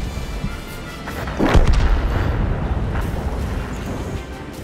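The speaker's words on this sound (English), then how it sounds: "There's our artillery there, just taking shots where it can." A distant artillery shot in World of Tanks, a single deep boom about midway followed by a low rumbling tail under a steady battlefield ambience.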